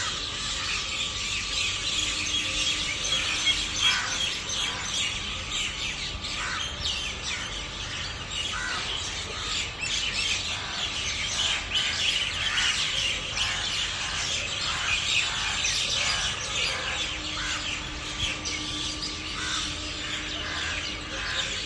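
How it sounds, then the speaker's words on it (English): At dawn, crows settle into an old neem tree about twenty feet away, a continuous chorus of caws and chirps overlapping at mid distance with no pause throughout. "I can see lots of crows beginning to settle on its branches."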